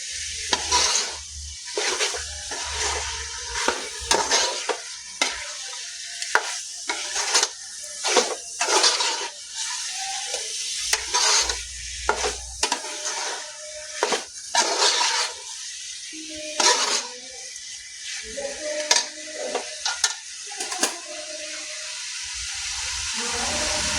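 A spoon scrapes and stirs pepper chicken in a sizzling pan in a Kerala home kitchen, giving irregular close scraping strokes over a steady frying hiss.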